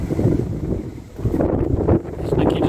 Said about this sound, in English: Ooh, it's getting very windy